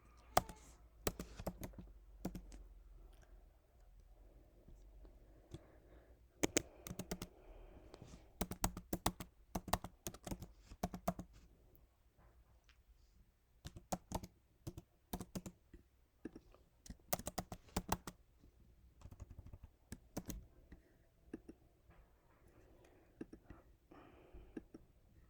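Login credentials typed on a computer keyboard in bursts of quick, close key clicks separated by quiet pauses, the keystrokes faint and crisp with no speech.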